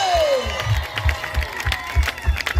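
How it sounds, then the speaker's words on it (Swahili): A church congregation claps in a steady, rhythmic beat during a sermon, with raised voices mixed underneath. "saidia kupiga makofi kwa Yesu mwanaume"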